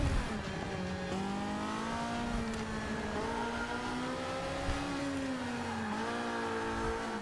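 A race car engine in a racing video game drones steadily with a smooth, continuous tone, rising and dipping slightly in pitch as it revs through the race.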